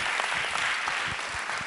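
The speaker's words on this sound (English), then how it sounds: "big round of applause for Rekha Ji." Sustained applause from an audience at a Bollywood tribute event for Yash Chopra, a steady dense clatter of many clapping hands filling the whole moment.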